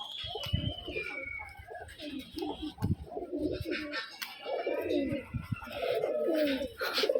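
Rajshahi Giribaz pigeons coo and call repeatedly at close range, their throaty notes overlapping with rustling and scattered background chatter.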